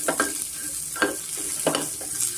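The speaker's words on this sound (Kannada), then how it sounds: "ಈರುಳ್ಳಿ ನೀವು ಚೆನ್ನಾಗಿ ಫ್ರೈ ಮಾಡಬೇಕು ಅಂದರೆ ಮಾಡ್ಕೊಬೋದು" Onions frying in a pan for a buttermilk sambar, a constant sizzle close by, broken by three or four distinct scraping strokes of a spatula.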